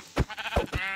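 Sheep in the Minecraft video game bleat in several short, close, wavering bursts in quick succession, loud and clear with brief gaps between calls and no speech.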